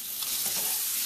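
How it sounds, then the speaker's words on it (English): Curry shrimp with its marinade stir-frying in a pot makes a loud, dense sizzle with a soft scrape of stirring, heard briefly and alone. "keep sort of stir frying it"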